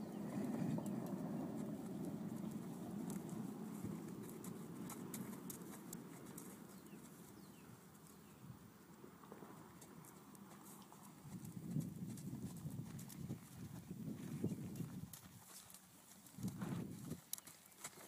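A horse lopes during groundwork training, its hoofbeats a soft, rhythmic thudding under a constant, steady background wash, with a few brief louder bursts later, mostly faint and distant.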